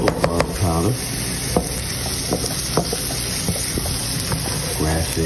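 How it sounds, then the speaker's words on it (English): Onions sautéing in a pan with olive oil, a steady close sizzle with light stirring, under faint tonal background sounds. "Saute my onions first."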